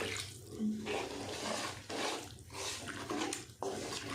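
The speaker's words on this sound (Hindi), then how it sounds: "तो हम 2 कप इसमें पानी डालेंगे" Hot water is poured in bursts into a pan of sugar and flour for aata halwa, giving several splashing, gurgling pours close by with short pauses between them.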